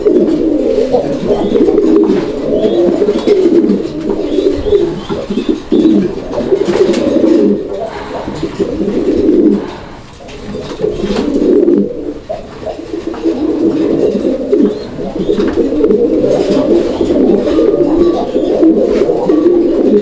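Fancy pigeons coo continuously and loudly up close, a steady pulsing murmur of several birds with a brief dip midway, flutters and scuffs mixed in and no talk.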